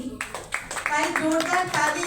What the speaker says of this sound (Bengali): তাই জোরদার তালি